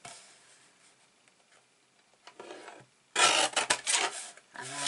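A piece of paper is trimmed for a handmade hard-covered notebook: faint scraping and rubbing at first, then a loud, rasping cutting burst near the end.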